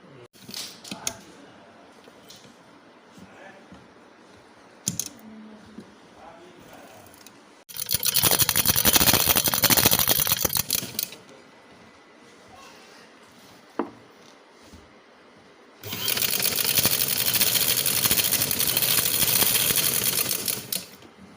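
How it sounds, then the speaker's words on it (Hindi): Home sewing machine stitching a fitted bedsheet, running in two long steady bursts of rapid mechanical chatter, separated by quiet handling noises and a few clicks. "अब मैं इसको सिलाई करूँगी।"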